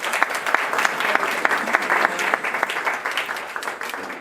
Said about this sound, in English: give her a round of applause for moving her car